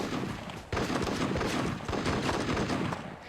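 Rapid bursts of gunfire in the shooter game Arena Breakout, dense and fairly loud throughout, with a sharp fresh volley partway in and the shooting continuing steadily to the end.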